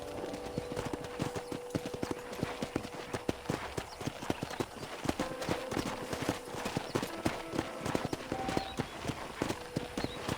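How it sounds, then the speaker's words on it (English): Rhythmic clip-clop of horse hooves while riding on a ranch in the video game Red Dead Redemption, a steady trotting beat close up with faint tonal game sounds underneath. "let's see if you can still ride a horse"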